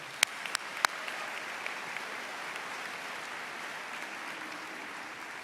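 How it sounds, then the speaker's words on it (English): Audience applause at a high school academic awards ceremony, a steady wash of clapping held at an even level throughout with a few sharper individual claps near the start, no voices over it. "Ladies and gentlemen, let's give them a huge round of applause"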